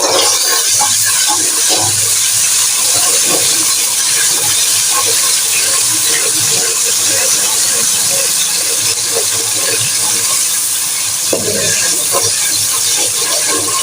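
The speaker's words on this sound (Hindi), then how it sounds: "अब इसमें हम डालेंगे लहसुन अदरक का पेस्ट" Garlic ginger paste dropped into about three spoons of hot cooking oil for a kaleji recipe, giving a loud, steady, hissing sizzle that stays constant throughout.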